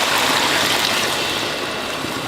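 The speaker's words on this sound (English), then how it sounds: "We're going to pour this broth over into here." Broth being poured into a cooking pot, a steady continuous liquid splash and rush with no pauses, fairly loud and close throughout.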